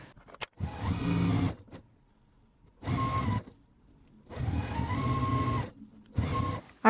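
A sewing machine stitches quilt block rows together in several separate bursts of steady, close mechanical whirring, with short quiet pauses between runs.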